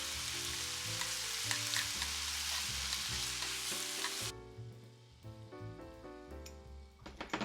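Shiso kombu tsukudani is stir-fried in a hot pan for Japanese home cooking, a close, bright sizzle with scraping stirs that drops away midway and leaves quieter clinks and shuffles.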